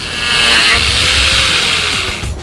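An electric sander runs loudly and close in one continuous whirring, grinding burst that trails off at the end.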